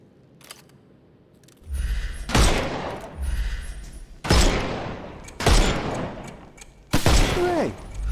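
Gunfire in the Sherlock Holmes Chapter One video game, with several loud separate bursts of shots spaced a second or two apart, each followed by a ringing decay over a low rumbling game backdrop.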